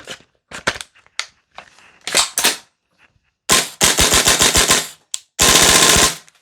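A VFC V3 URGI 10.3-inch M4 gas blowback airsoft rifle fires on a fresh CO2 magazine: a few sharp single shots first, then loud rapid full-auto bursts with hard mechanical clacks, close up and without speech.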